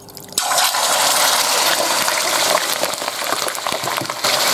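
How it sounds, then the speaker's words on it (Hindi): Chicken pieces dropped into cooking oil in a kadai for shallow frying, with a sudden loud, dense hiss that holds steady and close for several seconds. "तो चिकन को शैलो फ्राई कर लेंगे"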